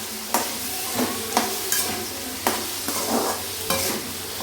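Coconut being sautéed in a pan for a country chicken curry, a continuous sizzle broken by several distinct spoon scrapes against the pan, close and without voices.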